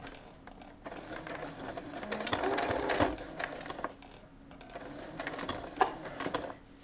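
A home sewing machine slowly stitches through a thick bunch of layered fabric while the presser foot struggles, giving a steady mechanical whirr that thickens and strains in the middle, with faint clicks.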